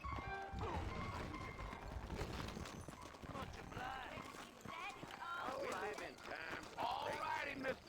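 Horses in the video game Red Dead Redemption, heard as busy clip-clopping hooves and rattling thuds mixed with game sounds and a brief whinny, under almost constant talking.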